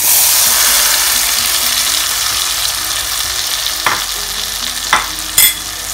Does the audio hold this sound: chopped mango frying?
yes